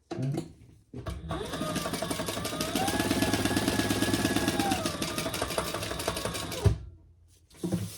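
Sewing machine stitching up and down a line on a crossbody bag, one continuous close whirring run of rapid needle strokes lasting several seconds, bracketed by brief quieter handling sounds.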